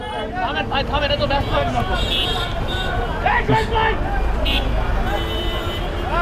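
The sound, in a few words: road traffic jam heard from a motorcycle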